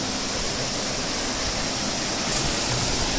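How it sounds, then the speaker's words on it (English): A stream in Skåne rushes over rocks where the waterfall begins, a steady broadband roar of flowing water, close and continuous with no voices. "That's where the actual waterfall begins."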